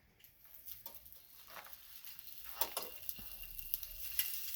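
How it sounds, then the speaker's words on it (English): Shrimp hit a preheated, greased non-stick pan and start to sizzle, a soft crackling hiss that builds and grows denser over a few seconds, with scattered sharper pops, close and fairly quiet. "I already had the pan heated up. And I'm just going to put the shrimp in."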